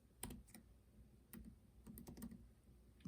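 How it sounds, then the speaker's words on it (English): Soft, close clicking of a computer keyboard as someone enters a note, irregular keystrokes in quick runs with brief pauses, faint and without talk. "I'm going to type that in"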